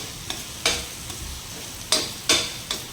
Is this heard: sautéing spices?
yes